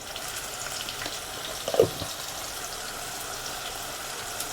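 Onion frying in oil in a pot, a steady moderate sizzle with a brief louder crackle partway through, alone with no talk.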